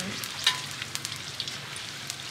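Beetles deep-fry until crisp for stir-fried holy basil, giving a soft, close sizzle with scattered small pops and crackles throughout.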